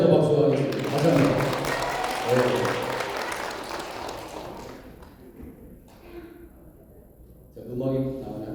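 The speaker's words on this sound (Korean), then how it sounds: "다시 한번 박수 하겠습니다. 다시 한번." A church congregation claps to welcome children, a warm burst of applause mixed with voices that thins out, then a fresh round rises near the end.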